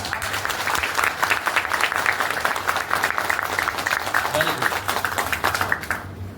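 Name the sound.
seminar audience applause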